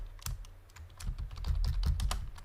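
Rapid typing on a computer keyboard, close and crisp, irregular bursts of key clicks and thuds filling the short stretch with no talk.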